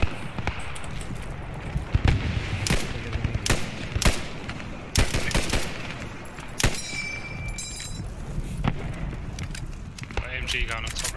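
Machine gun fire in the World War II shooter Post Scriptum, heard as sharp bursts and single cracks scattered at varying distances across a battle soundscape, with voices talking over the shooting.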